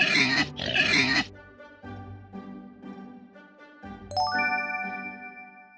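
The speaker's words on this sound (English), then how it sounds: "It's a pig." A pig oinking and grunting in a farm animal sound quiz, two loud snorty bursts up front followed by softer low grunts, then a bright chime ringing out near the end.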